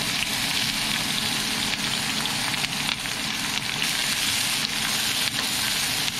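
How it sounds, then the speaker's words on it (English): Carrot and celery fry in oil with a dense, crackling sizzle that holds steady throughout, broken by faint taps of stirring. "Cook the carrot first. The carrot, then the celery."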